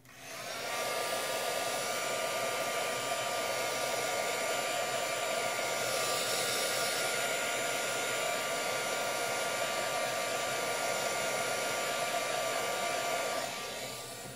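A handheld hair dryer blowing on craft flowers to dry them, a loud steady whirring roar with a constant whine that runs unbroken for about fourteen seconds after switching on.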